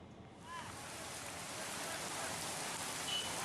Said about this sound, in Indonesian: Hujan deras dengan intensitas tinggi yang mengguyur sebagian wilayah di Banyuwangi, Jawa Timur pada Selasa malam.